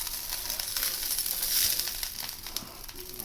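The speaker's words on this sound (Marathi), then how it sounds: "आपण भेड्याला तेल लावायचं." Oil sizzles on a hot griddle being greased with a banana leaf stalk before making Konkani ghavane, a steady close crackle and hiss with faint scraping and no speech.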